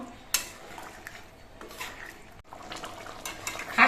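A spoon stirring garam masala powder into a nearly cooked mutton curry in a pot, with soft scraping and clinks of metal against the pan, a sharp tap early on and a brief clatter at the end.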